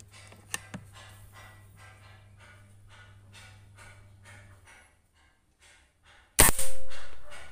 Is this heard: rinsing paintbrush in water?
no